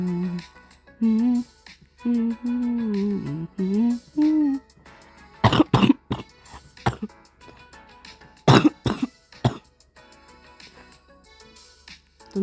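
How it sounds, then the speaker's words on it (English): Someone gives a few sharp, harsh coughs midway and later, set against an earlier stretch of a voice making rising and falling tones in an indoor gaming setting. "Don't you dare make me cough again."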